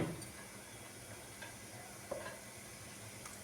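Mustard seeds, cumin and urad dal crackling in hot oil, a steady soft sizzle with a few faint pops and a light stir, heard close and without talk.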